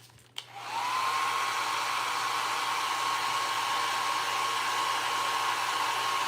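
A hair dryer blasts steadily at close range while drying a craft project, starting after a brief click and holding a loud, even whine with a constant pitch throughout.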